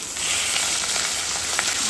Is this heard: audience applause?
no